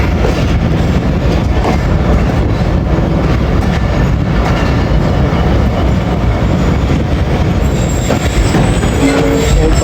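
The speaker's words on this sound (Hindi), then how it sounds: "एक बार फिर रोक दिया है जी ट्रेन को" A passenger train slows and halts at Kotri Junction, a loud, close, continuous rumble of wheels and carriages with metallic clanks and a rising wheel squeal toward the end.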